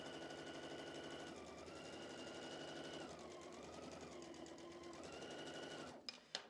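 Sewing machine chain piecing quilt fabric, with a stiletto holding the pieces down: a continuous, even needle clatter with a steady motor hum that runs for several seconds and then stops with a couple of quick clicks.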